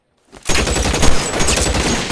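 Gunfire in the crime game LA Noire breaks in after a brief silence, a loud, dense barrage of overlapping shots that keeps going to the end.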